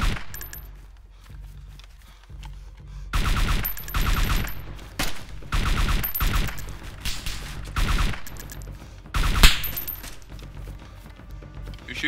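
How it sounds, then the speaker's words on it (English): Gunfire in the survival game DayZ Standalone: repeated loud, sharp shots and bursts of rapid fire crackling close by, with short pauses between volleys and one especially strong blast near the end. "I was just suppressing fire on the guy"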